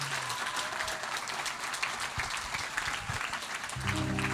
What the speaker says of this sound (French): Est-ce qu'on peut juste applaudir tous ceux qui ont bossé dans cette salle ?